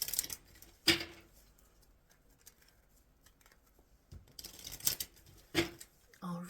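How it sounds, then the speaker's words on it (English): Tarot cards shuffled by hand in a few brisk papery bursts separated by quiet stretches, close and soft against a faint room background. "I am shuffling for the concluding message for the Libra collective"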